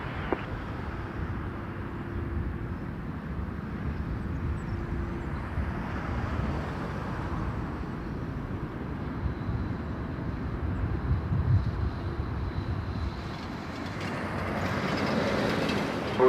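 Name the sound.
Air Canada Express airplane landing at Toronto Pearson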